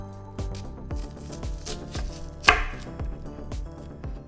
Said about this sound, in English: How to chop an onion in under a minute